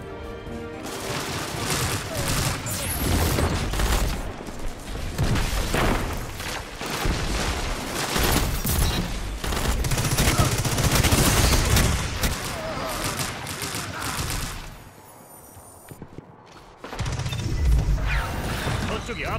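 Dense, continuous gunfire and explosions from the video game Destiny 2 fill the scene loudly for most of the stretch, briefly easing near the end before resuming.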